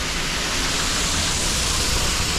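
Waterfall at Skyline Park: a steady, dense broadband rush of falling water, loud and continuous throughout with no breaks and no voices.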